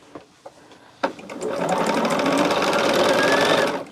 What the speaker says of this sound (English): just take my row and just start sewing that sashing on